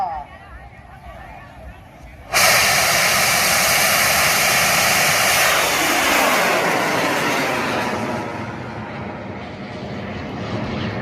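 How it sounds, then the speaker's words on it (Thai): A bang fai rocket launches at an outdoor rocket festival in Roi Et, Thailand. After quiet crowd ambience, a sudden loud roaring rush erupts and sustains as the rocket climbs, then slowly thins toward the end. "บังไฟที่ท่านเห็นอยู่นี่นะครับผมในฐานที่หนึ่งก็คือ บังไฟของทีมงาน แอดเทวดานะครับผม"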